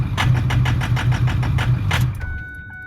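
A car engine runs at a rough idle after its filter has been changed, giving a rhythmic pulsing throb with a regular beat. The engine sounds close, and about two seconds in the throb falls away to a quieter hum.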